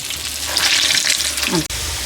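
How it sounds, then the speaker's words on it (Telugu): Vada lentil fritters (chillu garelu) deep-fry in hot oil, a steady close sizzle and crackle with a brief clink near the end and no talking. "మన వడలు అనేది వేగిపోయినాయి చూడండి."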